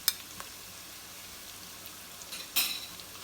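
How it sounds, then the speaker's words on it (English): Onions, bacon and garlic sautéing in a pan while cooking charro beans, a faint steady sizzle with a couple of brief utensil scrapes or clinks, one sharper stir near the end. "we'll get that mixed in with the onion and bacon and let that saute down for a bit"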